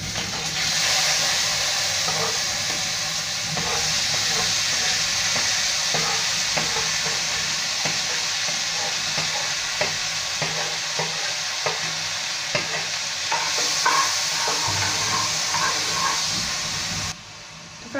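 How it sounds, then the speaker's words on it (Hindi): Vegetables for white sauce pasta sizzle steadily in a hot pan while being stirred, a continuous loud frying hiss broken by small scraping and stirring clicks, with no talking. "अब इसके अंदर अपनी हम सारी सब्जियां डाल लेते हैं"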